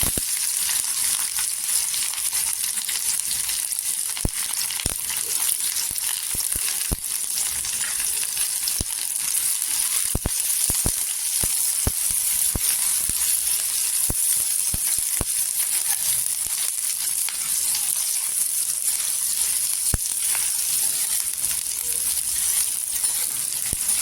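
Steady hot-oil sizzle of onion frying in a spoonful of oil on a pan, with crackles and pops, continuous and fairly loud throughout, with no voices.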